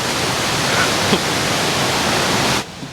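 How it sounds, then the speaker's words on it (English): The widest waterfall in Europe, on a river in Latvia, gives a steady broad roar of rushing water up close that cuts off abruptly near the end. "It's the widest waterfall in all of Europe."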